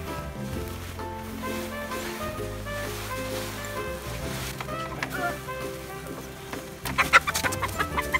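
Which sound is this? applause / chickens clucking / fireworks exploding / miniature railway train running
chickens clucking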